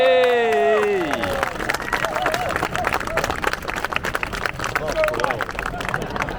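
A tour group at the Tower of London cheering and clapping, a long loud burst of applause and shouts that opens with a whoop and keeps going under crowd chatter.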